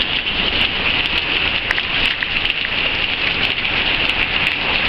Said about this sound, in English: And it's just pouring rain. Pouring.